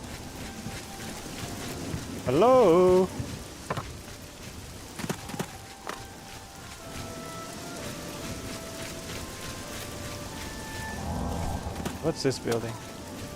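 Rain patters steadily through a video game scene under frequent talk from a player, with footsteps and a short musical chime early on.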